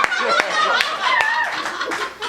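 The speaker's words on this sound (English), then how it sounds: "Get your hands clapping!" Audience applause at a live improv comedy show, a broad wash of clapping hands with scattered laughter and chatter mixed in, fairly close and steady throughout.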